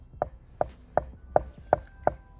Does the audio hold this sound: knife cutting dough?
yes